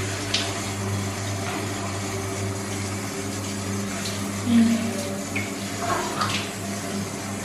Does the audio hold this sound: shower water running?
yes